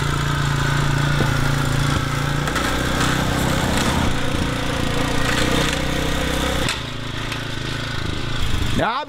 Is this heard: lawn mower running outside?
yes